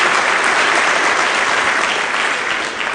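A church congregation applauds during a sermon, a dense, loud, steady wash of many hands clapping together that holds evenly and eases slightly at the end.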